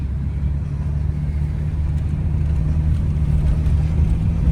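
A 2000 Chevy Camaro runs on its first test drive after exhaust repairs, a steady low engine drone and road rumble heard from inside the car, continuous and fairly loud with no talk.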